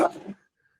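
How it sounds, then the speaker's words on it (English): A single sneeze from a man, loud and close with a sharp breathy burst that fades within half a second, leaving near silence. "he sneezed once"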